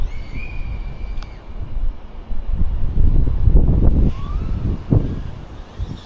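Steady outdoor wind rushes and buffets past the microphone during a Flywoo Firefly 25 4S drone flight, a broad low roar swelling louder midway with brief gusts and faint whines above.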